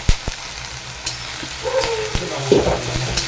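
Chicken fat fries and melts in a pan with onions, crackling and sizzling up close, broken by a few sharp knocks and scrapes of stirring.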